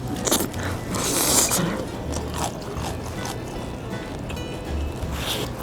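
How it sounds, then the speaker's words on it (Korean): Crisp bites into the unsoggy side of fried chicken batter, with light crunchy crackles repeating close up in a few bursts, no voices heard. "지금 눅눅해지지 않은 쪽의 튀김옷이 엄청 그 가벼운 바삭거림이거든요?"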